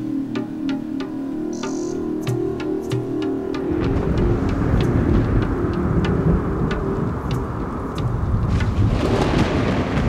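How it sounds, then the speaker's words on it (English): Desert thunderstorm in the Western Sahara: thunder crackles and rumbles over a low hum at first, then heavy rain sets in as a loud, dense roar mixed with rolling thunder. "At last, the storms arrive and bring with them the longed-for waters."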